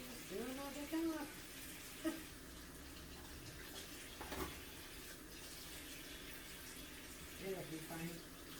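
Tap water runs steadily while dishes are washed at a home sink, a soft continuous hiss with a few faint clinks and a brief voice near the start and end.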